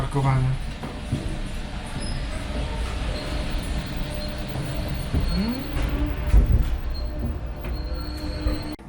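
Santorini cable car cabin riding along its line, giving a steady rolling rumble with squeals and creaks from the cable mechanism; people talk over it throughout.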